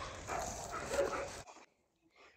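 A stray dog barks and yelps in quick loud bursts over the first half, then falls quiet apart from a faint trailing sound.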